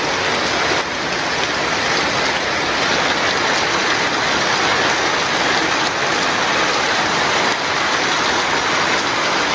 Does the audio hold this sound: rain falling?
yes